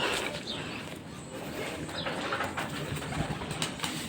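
Pigeons coo softly in a loft where young birds are kept, a low steady murmur of several birds close by and running throughout, with faint chirps and shuffling noises mixed in and no speech over it.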